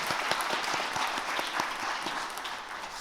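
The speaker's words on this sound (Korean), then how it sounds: "격려 박수 부탁드립니다." Church congregation at a New Year's Day Sunday afternoon worship service applauding the worship team, even clapping from many hands sustained throughout.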